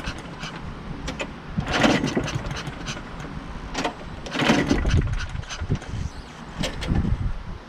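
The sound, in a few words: push mower engine with weed eater carburetor being started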